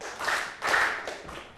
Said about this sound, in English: Let's give him 2 big claps.